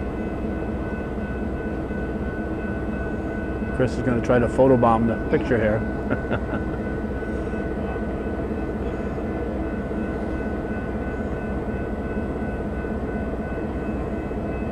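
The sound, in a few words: Canadian Pacific freight train about to start moving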